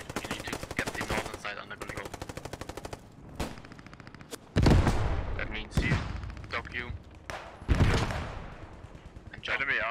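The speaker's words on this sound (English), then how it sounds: "That was an M1 Garand." Rapid rifle and automatic gunfire from an M1 Garand and other World War 2 weapons in the Post Scriptum squad combat game, with loud close bursts and repeated sharp shots while players talk over the battle.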